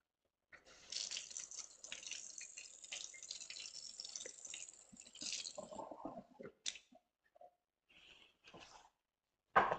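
A quarter cup of water is poured into a mixing bowl while making a traditional apple crumble, a steady splashing stream lasting several seconds, then a few scattered drips and small kitchen clatters.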